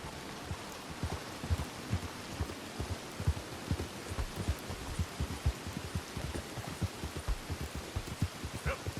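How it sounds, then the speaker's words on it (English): Rain falls steadily in the Red Dead Redemption video game, a dense patter of drops with soft, thumping low impacts repeating throughout, filling the scene on its own. "Having rain happen."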